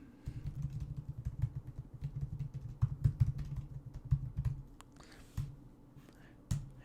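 Someone types a column name on a computer keyboard, producing a quick run of close, soft key clicks with uneven rhythm, followed by a few scattered taps and a pause.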